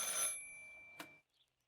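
A telephone rings once in the video game Martha Is Dead, a bright, loud bell-like trill that cuts off after about a second, followed by a faint click and near silence.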